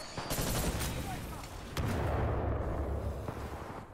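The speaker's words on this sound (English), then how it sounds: "Oh my, that frag grenade." Frag grenade blast in the shooter game Titanfall 2, a loud rumbling boom swelling out of continuous dense battle noise and gunfire, with heavy low-end rolling on for several seconds.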